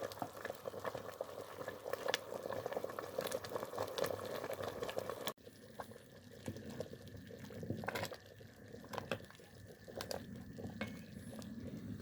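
Tuna curry sauce thickened with flour simmers on low heat, giving a steady soft bubbling and faint sizzle with a few light stirring scrapes, no voices.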